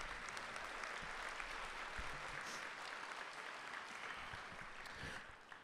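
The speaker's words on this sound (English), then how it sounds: "Give yourselves a round of applause." A concert audience's applause at a spring jazz performance, dense even clapping that fills the room steadily, somewhat distant, fading slightly at the very end.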